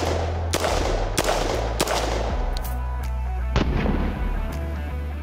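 A rifle fitted with a SureFire closed-tine flash hider fires several loud, close shots, each a sharp crack with a ringing tail, spaced unevenly over a few seconds with no talking.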